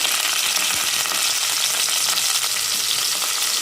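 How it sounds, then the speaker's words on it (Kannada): Onion and curry leaves spit and sizzle in hot oil inside a cooker, a dense, loud, continuous crackle close at hand with no talking. "ಎಣ್ಣೆ ಕಾದಿದೆ. ಈರುಳ್ಳಿ ಮತ್ತು ಕರಿಬೇವು ಹಾಕ್ತಾಯಿದ್ದೀನಿ."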